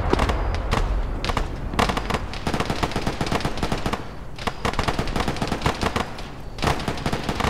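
Sustained medium machine gun fire against a BMP in a military video game, rapid bursts crackling loudly and nearly continuously with brief pauses, alongside scattered other gunfire.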